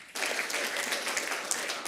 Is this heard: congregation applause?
yes